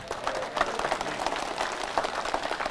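A crowd claps during an Islamic sermon at a remote village gathering in South Kalimantan. The applause is moderate and continuous, a wash of overlapping hand claps at middle distance with no clear voices over it.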